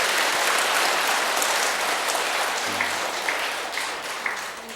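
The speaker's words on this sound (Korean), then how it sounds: "박수 한번 보내드리세요." A Buddhist temple audience breaks into dense, sustained applause that fills the hall, loud and steady before easing slightly toward the end, with no talking over it.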